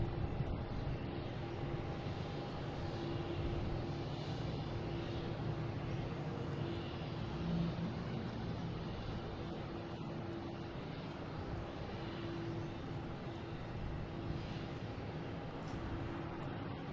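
A British Airways Airbus A380-800 airliner at Boston Logan airport gives off a steady, fairly faint jet roar that holds evenly throughout, heard from a distance with no voices.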